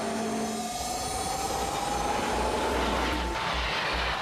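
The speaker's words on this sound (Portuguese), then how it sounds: "este trem da Eurostar, que está de partida para a Disneylândia de Paris" A Eurostar high-speed electric train departs for Disneyland Paris with a steady rumble of rails and wheels and a rising whine, loud and continuous, without speech.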